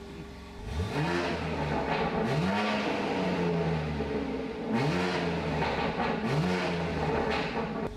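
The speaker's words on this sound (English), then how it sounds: "Like, I've used Scorpion exhaust on a lot of cars, but these BMWs just don't sound very good." A BMW engine fitted with a Scorpion exhaust, valves open, revs repeatedly in loud bursts, each rising and then falling back. Four or five strong revs come close together with no talk over them.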